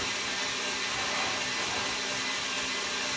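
Electric hand mixer whipping egg whites with sugar at raised speed for a meringue, a steady, dense whirring hum that holds evenly and close throughout.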